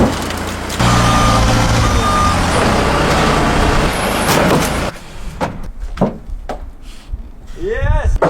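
A forklift rated to lift 6,000 pounds sounds steady reversing beeps over a loud engine drone as it carries a car, then the machine noise drops away to scattered clunks and a door closing.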